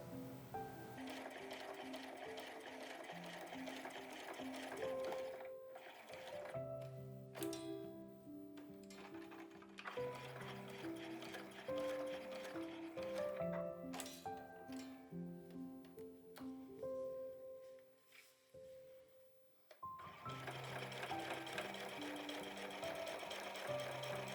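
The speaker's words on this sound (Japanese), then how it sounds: "そしてミシンで縫います。" A sewing machine stitches the fabric of a patchwork pouch in long, fast rattling bursts with short pauses between them, close by and with no talking.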